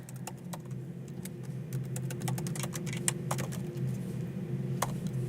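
Fingers tapping on a computer keyboard while programming, with quick irregular clicks in short bursts over a low steady hum, close and quiet.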